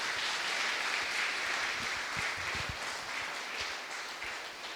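Steady applause from a congregation at a Hindi-language church service, a continuous moderate wash of many hands, fairly distant, with a few low thumps underneath.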